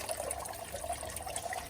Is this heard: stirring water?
yes